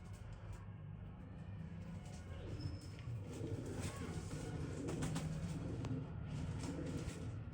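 Pigeons coo softly in a loft, low murmuring calls rising and falling faintly and continuously against steady background noise, with no voices.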